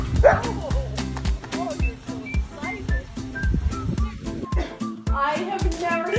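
A puppy barks and yips in short bursts, with a high whimpering whine, close by amid excited people talking and some whistling.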